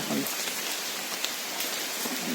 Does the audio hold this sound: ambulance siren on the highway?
no